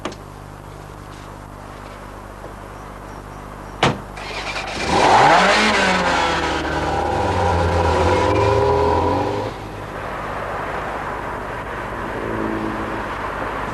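An old sports car's engine roars up from a sharp bang into a rising, revving drone that holds loud for several seconds as it accelerates past, then drops back to a quieter idle-like hum.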